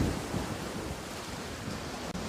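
Churning white water circles the edge of a whirlpool in a steady, unbroken roar like heavy surf, loud and close with no pauses.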